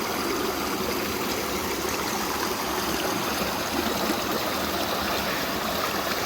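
Water from a waterfall pours over orange-stained ground in a continuous, soft, even rush, with no voices.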